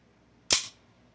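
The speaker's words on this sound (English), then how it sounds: "I rack that slide forward and you hear the metal hitting the plastic, right?" A pistol slide racked forward makes one sharp, close snap of metal striking plastic, abrupt and brief, followed by quiet.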